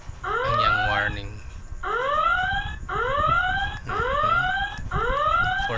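A loud electronic traffic light warning buzzer repeats in rising, chirping bursts about once a second, steady and insistent over a low background rumble.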